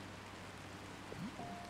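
Quiet, even rainfall in the game Until Then makes a constant soft hiss of drops, with a couple of brief faint tonal blips near the end.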